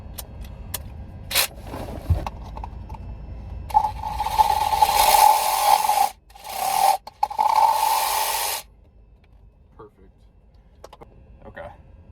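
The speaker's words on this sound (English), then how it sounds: "This little Sawzall comes in handy. We'll see if it'll cut this" A small reciprocating saw cuts off a plastic tip in a loud, steady buzzing rasp that runs for several seconds with a brief break, surrounded by quieter handling clatter and bumps before and after.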